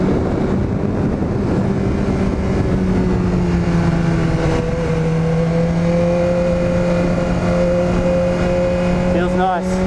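BMW S1000R motorcycle engine held at a steady, loud drone close by, the pitch sliding slightly and then climbing sharply at the end as the throttle opens, with a voice talking over it.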